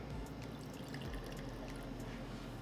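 Gin poured into a cocktail glass, a faint, steady trickle of liquid lasting a few seconds against soft background noise, with no talking.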